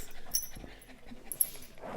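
Several dogs playing together, their quick soft panting faint and close, broken by a brief whimper and small scuffling sounds in a quiet room.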